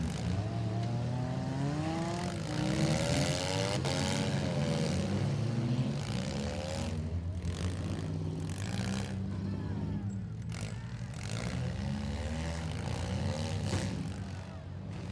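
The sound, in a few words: demolition derby cars driving around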